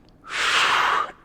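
A single close, breathy inhale during a core exercise, swelling quickly and held for under a second before it fades.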